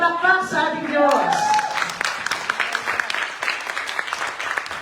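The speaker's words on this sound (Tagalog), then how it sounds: "Malakas na palakpak sa ating Diyos." Church congregation applauding loudly, a dense burst of clapping that rises as a voice trails off at the start, then continues strongly and thins slightly toward the end.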